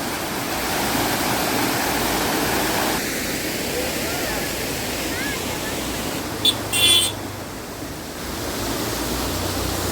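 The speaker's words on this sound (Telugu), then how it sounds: "ఇక్కడే వాటర్ ఫాల్స్ కూడా ఉన్నాయి. వాటర్ ఎక్కడి నుంచి వస్తున్నాయో తెలియదు కానీ వాటర్ అయితే మాత్రం వస్తున్నాయి." A small waterfall pours in a steady, loud broadband rush near a cold hill-country roadside. A brief higher burst cuts through partway, and the flow softens slightly for a moment before swelling again.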